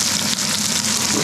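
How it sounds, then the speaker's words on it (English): Onions pan fry with a loud, dense, continuous sizzle close by, steady throughout the short moment, with no voices. "Also pan fry our onions here"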